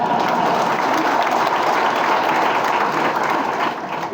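A political rally crowd in Ratnagiri applauds in a dense, steady wash of clapping that holds for about four seconds before easing slightly at the end.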